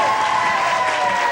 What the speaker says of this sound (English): And another nice round of applause, please,